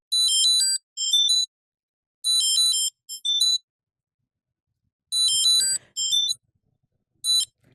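A eufy SmartTrack card tracker plays its alert through the Find My app: bright electronic chime bursts in repeating clusters of two or three, close and loud, with silent pauses between groups.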